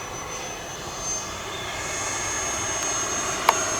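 An FMS Scorpion 90 electric ducted-fan RC jet, upgraded to 8S power, takes off with a steady, fairly distant whine. The engine rises slowly and holds, with a faint breathy rush and one short click near the end, and no voices.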